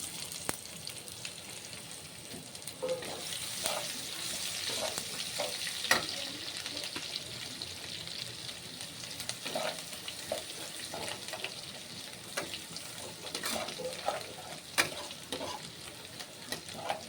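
Crushed garlic added to a pan while dried fish is being cooked gives off a soft, continuous sizzle and fry, punctuated by scattered stirring scrapes and clicks. The sound is quiet and steady throughout.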